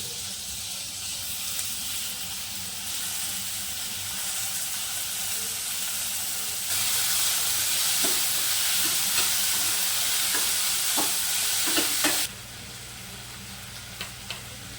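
Sliced onions and chopped tomatoes fry in a pan for a wild monsoon vegetable kantoli curry, a steady close sizzle that grows louder midway, with a few soft scraping stirs.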